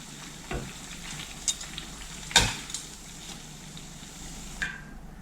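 Kefir doughnuts (kykhli) fry in oil with a soft, even crackle, punctuated by a few sharp pops and a light clink of a utensil, quiet overall and without speech.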